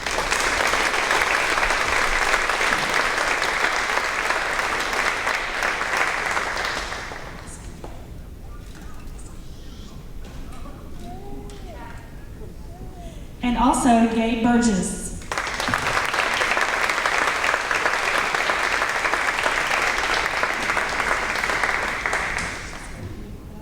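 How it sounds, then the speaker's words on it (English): Audience applause at a fifth grade promotion ceremony, a steady broad wash of clapping that stops while a voice announces a student's name over a microphone, then swells back loudly. "if I could please ask you to applaud and congratulate"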